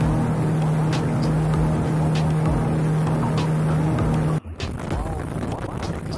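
Twin Yamaha outboard engines drive a 30-seat passenger speedboat, a loud steady drone heard from inside the cabin, briefly cut off near the end before the rumble and water noise resume.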